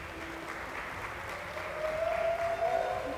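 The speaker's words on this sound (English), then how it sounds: "Big round of applause for the Mole." An audience claps for the runner-up at a LAN gaming tournament prize ceremony, a steady wash of applause that swells slightly louder toward the end.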